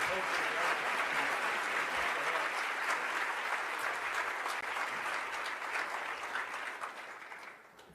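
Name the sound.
audience applause for award recipients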